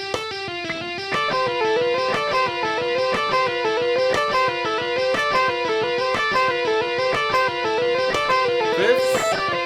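Electric guitar picking a run of two-note harmonies a fourth apart, steady and clear with a slightly driven, effected tone, each pair plucked in an even rhythm, played alone up close.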